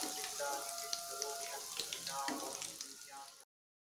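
Cauliflower bajji pieces fry in hot oil for a crisp finish, giving a steady close sizzle with small crackles throughout, under soft background music, before stopping abruptly near the end.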